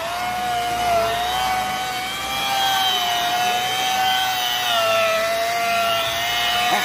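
A car body polishing machine turns slowly during paint sanding and polishing, giving a steady whining tone with a gently wavering pitch over a rough buffing noise, close and continuous, no voices.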